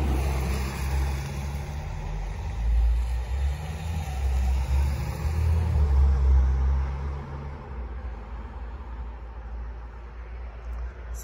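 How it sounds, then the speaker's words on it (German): Several cars drive past on the B255 road near Langenhahn, a steady low engine and tyre rumble that swells as they pass close by, then thins out, with no talking. "Jetzt kommen gerade ein paar Autos."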